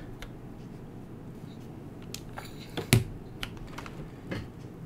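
Keys on a KBD75v2 custom mechanical keyboard click in sparse, irregular taps, faint and close, with one sharper louder clack near the middle.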